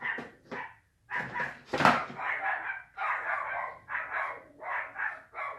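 Several dogs bark excitedly in repeated loud bursts close by, with short gaps between volleys and one sharper peak near the middle, no talk over them.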